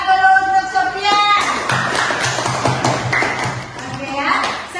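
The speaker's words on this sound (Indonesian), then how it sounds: "tepuk tangan dulu untuk Sofia." Classroom applause from students during a religious studies lesson: scattered, uneven claps from a group, fairly close, under a teacher's voice that also rises over the end of the clapping.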